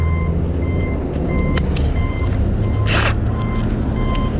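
A large tow truck backs up on a freeway with steady, evenly spaced reversing beeps over a loud, constant diesel engine rumble. A brief hiss of air comes midway, and no one talks.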